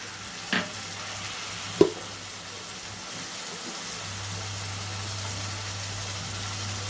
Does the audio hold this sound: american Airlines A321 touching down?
no